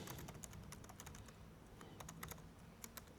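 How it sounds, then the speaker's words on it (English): Quick, steady keystrokes rattle on a computer keyboard during a live coding talk at a developer conference, close and fairly quiet, with no one speaking. "Why are you typing?"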